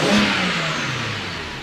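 A BMW E90 335i with the N54 engine revs up in a single quick blip close by, then the engine note falls away as it settles back.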